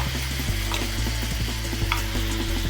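Ground radhuni, black mustard and ginger paste frying in a pan for Bengali shukto, with a close, steady sizzle broken by light scraping and clinking as the mixture is stirred.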